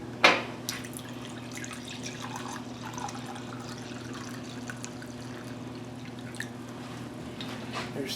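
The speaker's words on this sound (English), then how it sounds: "So now we got to add the vinegar." Vinegar trickles and splashes into a measuring cup in a quiet kitchen, a soft steady pour with a few drips, faint and close.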